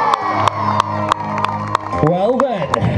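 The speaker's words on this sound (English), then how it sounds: "make a raucous round of applause" A crowd at a bike show cheers, whoops and claps, with rhythmic beats and a loud voice over the noise.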